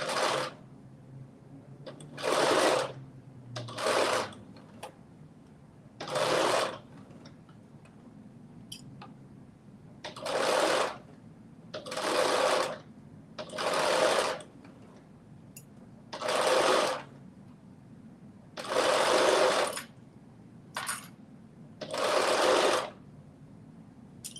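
A home sewing machine stitches fabric pieces for a Simplicity 9844 costume tail. It runs in short bursts of rapid, steady whirring, about a dozen runs with brief quiet pauses between, close and clear, with no talking.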